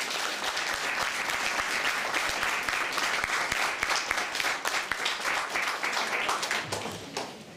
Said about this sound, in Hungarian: egy nagy tapsot szeretnék kérni azoknak a néptánc oktatóknak